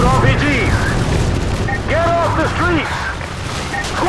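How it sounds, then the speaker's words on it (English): Call of Duty Modern Warfare 2 combat brings deep booms and bursts of gunfire in a street battle, with shouted voices over the noise. "Put suppressing fire on that house!"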